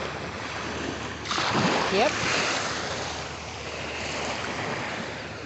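Ocean surf washes onto a beach under steady wind rumble, a broad continuous roar that swells around the middle as a wave breaks and splashes, and a voice briefly says a word over it.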